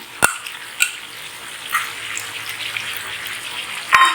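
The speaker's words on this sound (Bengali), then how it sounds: "দইটা দিয়ে একটু জল দিয়ে দিচ্ছি" Water is poured into yogurt in a cooking pot while making malai chicken, a soft continuous splashing and trickling punctuated by a few sharp clinks, with faint sizzling beneath.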